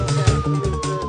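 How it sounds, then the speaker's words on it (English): Police car siren wailing at a city street fight scene, a steady rising-and-falling tone sounding moderately close over a low background rumble. "As they hear the sirens,"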